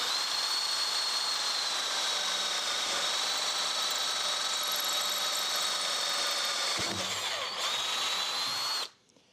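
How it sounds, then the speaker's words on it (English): Handheld power drill boring a hole through aluminum extrusion with a dull bit, a steady high whine held for about nine seconds before cutting off abruptly. "I can easily drill my hole all the way through there"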